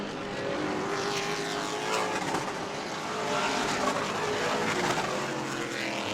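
Race cars lapping a track at Auburndale during a charity race day, a continuous blended engine roar from several cars at mid distance, rising and falling as they pass, with no talk.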